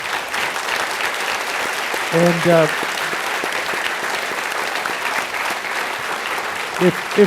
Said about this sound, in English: A final round of applause, please.